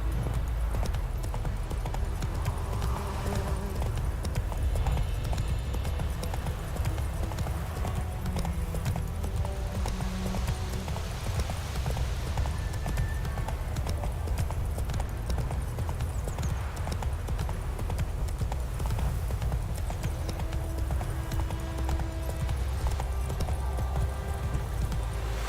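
Roach, a horse in The Witcher 3, clip-clops steadily on hooves throughout, a continuous walking rhythm over a dense ambient game soundscape with an occasional faint whinny.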